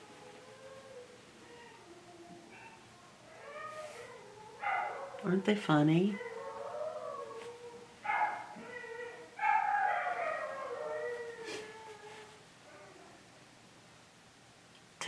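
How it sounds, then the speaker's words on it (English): Dogs howl in response to a siren, with rising, wavering howls that swell in the middle and again later while someone talks over them. "there's a siren, so the dogs are howling"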